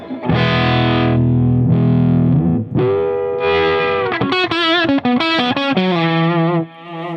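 A loud, distorted Ibanez GIO GRX70 electric guitar plays sustained chords and then choppy notes as its tone knob is turned, shifting from dark and muffled to brighter and sharper.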